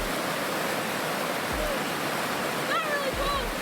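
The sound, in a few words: cold water from an ice-covered lake flowing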